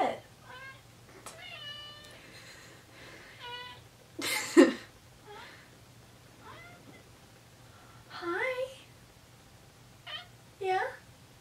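A cat meows close by, a series of short, clear meows spaced irregularly with quiet pauses between, plus one louder, harsher burst midway.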